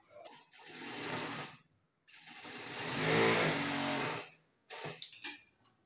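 A sewing machine stitches a quarter-inch seam in cloth in three close bursts: a short run, a longer steady whirr, then a brief final spurt. Quiet pauses fall between the runs and no one speaks.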